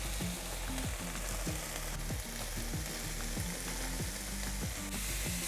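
Cauliflower frying in a spice paste in a pan, a steady close sizzle with scattered crackles and pops running evenly throughout, no voices.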